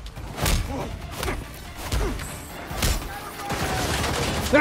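Bursts of gunfire and heavy thuds in the video game Gotham Knights played in VR, several loud shots spaced irregularly with brief whooshes, a player speaking between them.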